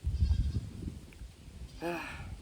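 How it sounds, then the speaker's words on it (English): Goats bleat near a chicken coop run, a short wavering call rising clearly near the end over low rumbling handling noise and faint background sounds. "Goats."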